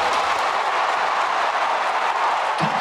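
A socially distanced crowd of about 20,000 college football fans cheers in a stadium during a Sooners home game against Missouri State, a steady, broad roar with no breaks.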